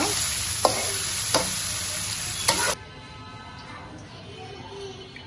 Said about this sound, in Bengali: একটু পেঁয়াজ দিয়ে তেল দিয়ে কড়াইতে নেড়ে চেড়ে নিয়ে নিব